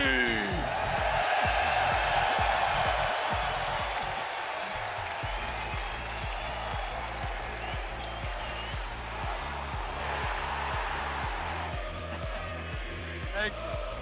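An arena crowd at the Boston Major, an RLCS Rocket League championship, cheers for NRG: a sustained roar of cheering and applause under voices talking, with thumping music joining partway through.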